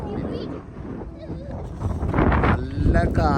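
Strong wind buffets the microphone outdoors near a park, a heavy low rumble that swells and gusts louder toward the end, mixed with people talking.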